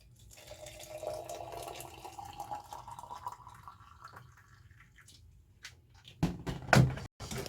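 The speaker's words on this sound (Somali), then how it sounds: "biyo kulul aan ku shubayaa" Hot water is poured into a vessel, a faint trickle whose pitch climbs steadily as it fills, followed near the end by a few louder clunks and knocks close by.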